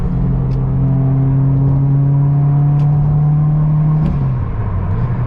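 A modified Subaru WRX drones steadily from inside the cabin as it cruises, with exhaust and intake noise blending into a loud, even engine hum. The pitch eases slightly near the end.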